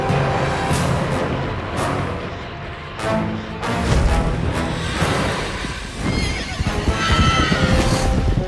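Fire steeds in the God of War: Chains of Olympus game neigh and whinny loudly, with hoof clatter and heavy booming impacts under a dense cinematic score.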